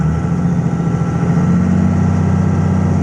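A 2001 Dodge Ram 2500 with a Cummins turbo diesel engine and an Edge box idles loudly and close, a steady low rumble with an even mechanical clatter and no speech.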